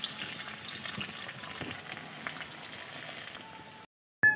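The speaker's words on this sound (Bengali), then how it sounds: "পেঁয়াজ আর লঙ্কাটা হালকা ফ্রাই হওয়ার পরে আমি দিয়ে দিলাম আলু আর ফুলকপি" Potatoes and cauliflower fry in a wok with onion and chili, a loud, continuous close sizzle that cuts off abruptly near the end, followed by a brief clatter.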